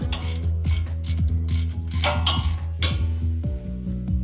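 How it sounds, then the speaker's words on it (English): A bolt securing an electrical cable is worked loose on a truck during a U-joint and wheel bearing repair, giving a loud, steady run of rapid ratchet clicks and metallic mechanical ticking, with no voices. "we're going to remove this bolt right here that's holding on the electrical cable"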